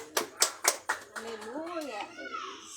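At a Saturday church service, a few sharp, close hand claps ring out for Jesus, then a voice talks.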